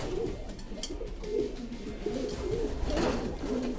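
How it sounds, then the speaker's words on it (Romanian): A racing pigeon in a Romanian breeder's loft coos repeatedly in soft, low, rhythmic phrases, close by, with faint background rustle and no talk. "Ăsta e un porumbel de la Wim Müller,"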